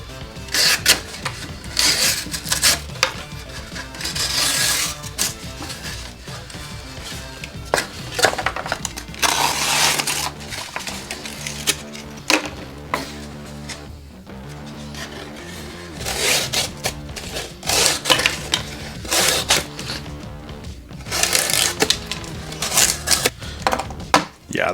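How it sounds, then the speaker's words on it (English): Sharp, rapid clicking and crunching of a Knafs Lander 1 knife blade slicing through cardboard, close and loud in repeated bursts, with some talking over it. "Yeah, the cardboard cutting, no problem."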